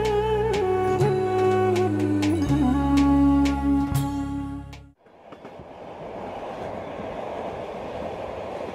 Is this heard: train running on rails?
yes